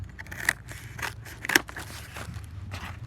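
Scissors snip through thin plastic face shield material in a few quick, crisp cuts, with faint crackling of the sheet between them, close up and quiet.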